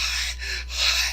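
A voice imitating someone gasping for air, two sharp breathy intakes with a brief pause between, close and fairly loud over a steady low hum.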